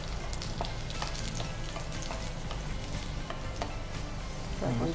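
Mustard seeds tempering in hot oil with garlic and curry leaves, giving a steady, close sizzle with scattered crackling pops throughout and no talking.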